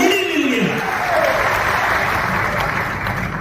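An audience at a political speech by the chief minister in Lahar, Bhind, bursts into loud, sustained applause, a dense wash of clapping that holds steady close by throughout.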